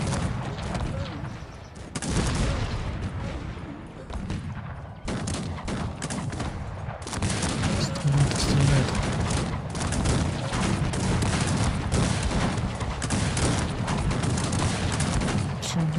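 Troops firing in the strategy game Cossacks 3, a dense, continuous battle din of overlapping gunshot volleys that stays loud and steady throughout, with a brief dip in intensity partway through.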